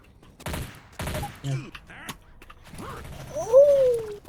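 MP5 gunfire in the zombie video game Left 4 Dead 2, two short loud bursts of rapid shots near the start followed by other game sounds, with speech in the clip.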